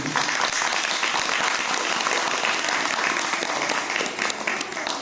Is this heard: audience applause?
yes